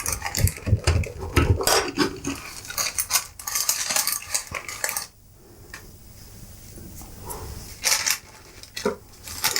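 A knife cuts Turkish baklava in a baking tray, with busy clicking and scraping of metal against the tray, louder tapping bursts at first, then a quieter stretch before more scraping near the end.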